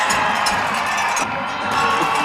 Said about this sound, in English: Cliff Klingscales trying to fire up the crowd.